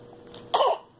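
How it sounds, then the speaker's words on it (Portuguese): A single short, rough cough close by, a brief burst after a quiet moment, with no talking over it. "Como pode uma tosse dessa, né?"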